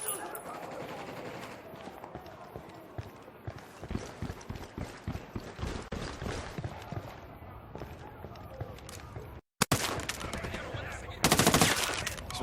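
Gunfire in the video game Ghost Recon Wildlands, bursts of rapid shots at moderate distance through a busy game soundscape, with a brief dropout and a louder burst near the end.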